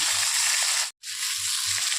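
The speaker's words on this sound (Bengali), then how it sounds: "সব মাছগুলো আমি ভাজা বসিয়ে দিয়েছি।" Loud, steady sizzling of small fish frying in hot oil, briefly cutting out for a moment before the crackling resumes.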